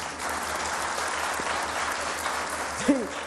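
A studio audience on a Ramadan iftar television show applauds in a steady, even wash of clapping, with a short voice rising briefly near the end.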